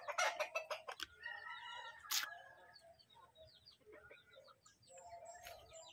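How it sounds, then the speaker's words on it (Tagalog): Rhode Island Red chickens clucking and squawking nearby, with a loud burst of calls at the start, a sharp cry around two seconds, and continuing softer clucks and chirps throughout. "yung Rhode Island yung manok guys"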